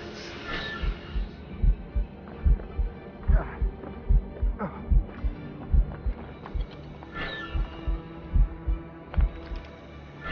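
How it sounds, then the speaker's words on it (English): Rhythmic heartbeat thuds pulse steadily and loudly in Assassin's Creed Rogue as poison slows the character's heart, each beat a deep low double thump repeating through the whole stretch under a faint droning hum. "My heart beating."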